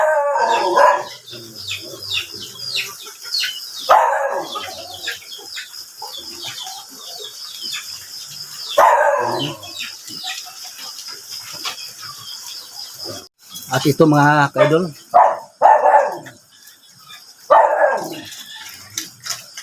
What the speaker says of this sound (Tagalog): At saka yung mga aso na tumatahol.